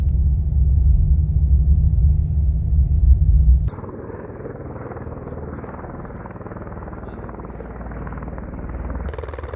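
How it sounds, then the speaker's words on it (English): A helicopter waits on a snowy pad under cloudy, gray, cold skies before a backcountry trip, its loud steady rotor and engine rumble dropping in level partway through and continuing as a constant drone, with no voices. "there is a helicopter that I'm about to get on"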